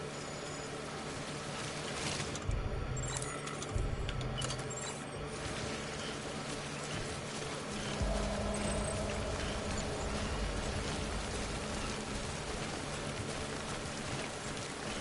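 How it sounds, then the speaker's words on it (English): Steady rain pours down in the Death Stranding game world, a dense continuous wash of drops with a few louder low rumbles and shifts in intensity, and no talking over it. "Clear our skies. The rain should stop."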